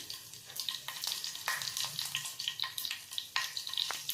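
Mustard seeds spluttering in hot oil in a pan, a close, steady frying hiss broken by repeated sharp popping crackles at an uneven rhythm, with no talking.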